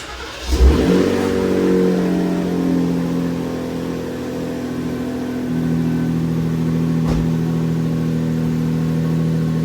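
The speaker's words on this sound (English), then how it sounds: "I'm ready to fire it up. Let's hear how it sounds." A RAM 1500 pickup with a Hurricane engine and a Flowmaster Signature Series cat-back exhaust starts with a thump, then settles into a deep, loud, rumbling idle with a slight rise partway through.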